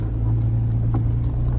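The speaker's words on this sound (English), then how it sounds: "Right, let's go for a drive." A car's engine runs steadily as it is driven, a continuous low rumble with road noise and no distinct revving, heard close and fairly loud with no talking.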